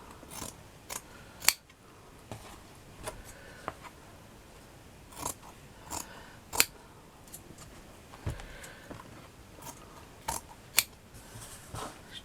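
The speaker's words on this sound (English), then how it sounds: "Now what I'm going to do is I'm going to cut it at an angle" Scissors snip through shadow box backing material at an angle, a series of sharp, close clicks spaced irregularly across the stretch with quiet pauses between cuts.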